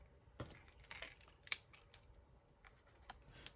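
Paper for a handmade card is trimmed half an inch along one side, giving quiet, scattered snips and crisp rustles at close range with no talking.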